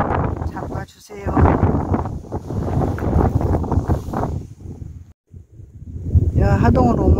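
Wind gusting across the open stone banks of the Seomjin River at Hadong, a steady rushing roar buffeting the microphone, with people talking over it throughout.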